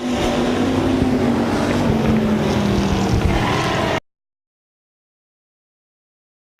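IMCA Hobby Stock race cars roar around the dirt track at RPM Speedway, a loud, continuous engine drone for about four seconds before it cuts off to silence.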